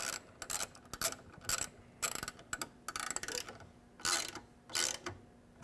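A T30 driver tightens a pivot knuckle screw while a Trektop is fitted to a 2-door Bronco. Close, crisp ratcheting clicks come in about seven short bursts with brief gaps between them.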